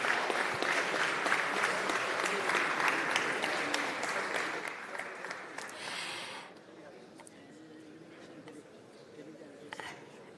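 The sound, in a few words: audience applause for panelists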